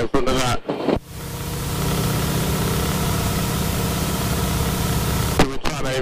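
Droning engine of a Harvard training aircraft flying low on landing approach to a small airfield, a steady rumbling hum held for several seconds between stretches of cockpit talk at the start and end.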